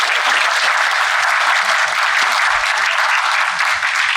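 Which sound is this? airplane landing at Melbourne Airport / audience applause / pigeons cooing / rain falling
audience applause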